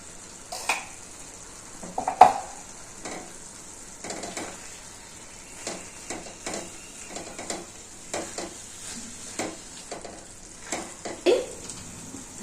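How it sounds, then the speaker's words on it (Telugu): A spoon stirs bottle gourd halwa with ghee in a pan, making soft scraping taps and clinks against the metal at an irregular rhythm over a faint steady sizzle, with no talking. "కొంచెం నెయ్యి వేస్తానండి, కొంచెం నెయ్యి వేస్తే బాగుంటుంది."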